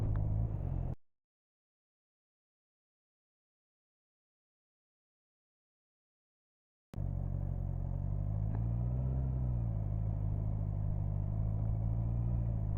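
Motorcycle engine idling at steady revs through a slow tight turn, a low continuous rumble that cuts out abruptly into several seconds of silence, then returns at a steady throb with a slight rise and fall.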